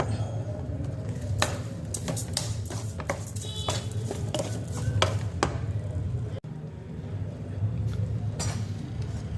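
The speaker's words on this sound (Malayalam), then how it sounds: "അത് ഇതുപോലെ അലിയുന്നവരെ നമുക്ക് ഇളക്കി കൊടുക്കാം" Continuous scraping and clinking as a spoon stirs sugar melting in a pan for rava carrot kesari, with a soft sizzle underneath and steady rhythmic strokes throughout.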